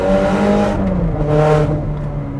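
A Ferrari 430 Scuderia with a Capristo exhaust drives at a loud, steady engine roar close by. The pitch rises, then dips slightly, with a gritty mechanical rasp the whole time.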